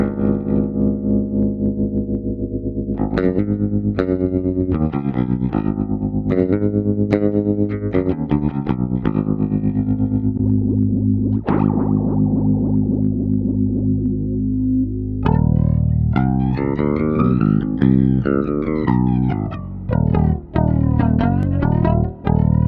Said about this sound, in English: Moving up to all the modulation effects, your standard choruses, phases,